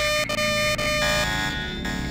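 A synthetic electronic alarm blares steadily with sustained buzzing tones and a few brief dropouts, loud and continuous over a busy soundscape in the video game Deus Ex.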